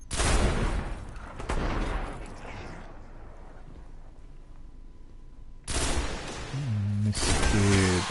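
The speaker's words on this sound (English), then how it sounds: "You could tell that the power of this rifle has been enhanced." A rifle fires in Destiny with heavy, booming blasts that open and close the passage, a quieter rumbling lull between them, and talk over the later shots.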